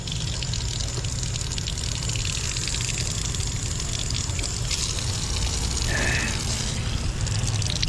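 Water gushes steadily from a public drinking fountain on a coastal walking route near Nice, a loud continuous splashing rush that stays close throughout.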